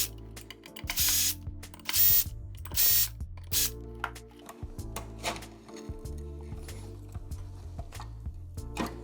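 Screws being removed from a Sony ULT Tower10 speaker during a teardown, near the mid-range driver: sharp hissy bursts and scattered mechanical clicks and scrapes, close up, over faint background music.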